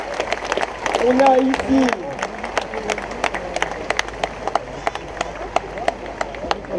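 Outdoor concert audience at a nature festival clapping, sharp scattered handclaps that thin out into individual claps, with someone speaking over them at the start.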